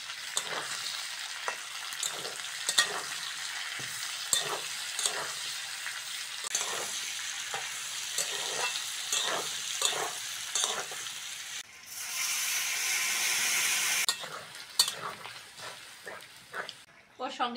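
Lightly fried potato with onion, tomato and green chili sizzles in a pan for a lote fish dish, a continuous crackling fry with rhythmic stirring scrapes and a brief louder burst of sizzle, a voice talking over it at times.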